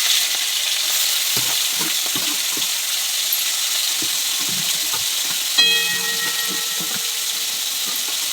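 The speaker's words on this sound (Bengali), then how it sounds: "চিংড়ি মাছগুলো ভেজে নেওয়া হলো।" Prawns fry in a wok with a loud, continuous close-up sizzle, punctuated by occasional stirring scrapes and a sharp metallic clank midway.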